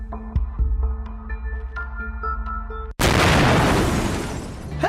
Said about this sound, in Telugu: బాంబు పేలుస్తారా? ఆన్సర్ చెప్తారా?